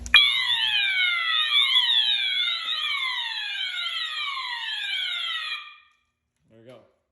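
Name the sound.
Notifier SFP-1024 fire alarm system sounding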